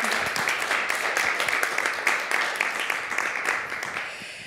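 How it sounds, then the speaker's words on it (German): An audience at the medius award ceremony 2024 claps in a dense, sustained round of applause, close and steady, fading slightly toward the end. "Und einen großen Applaus bitte nochmal."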